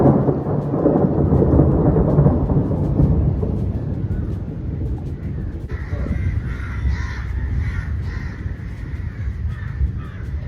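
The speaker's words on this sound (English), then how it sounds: "we had a thunderstorm" A thunderstorm in Nepal rolls in with a deep, sustained rumble of thunder over steady rain, and crows caw repeatedly in the later part as the thunder fades.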